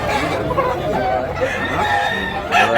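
Large, mature roosters at a chicken market in Tabunok, Cebu crow over one another, with overlapping calls and clucking from many birds close by and a busy background of chatter.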